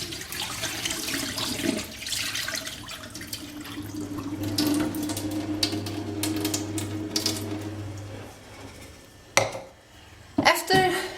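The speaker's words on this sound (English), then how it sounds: "It's about 4 or 5 washes, and you should get pretty decent clean water." Rice is washed in water in a bowl for Korean gimbap, with sloshing, swishing and trickling water, light clinks of the bowl and a running tap, fairly close by.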